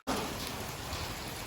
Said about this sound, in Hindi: ऐसे लग रहा है जैसे ना ओले से पड़ रहे, मोटी मोटी बारिश है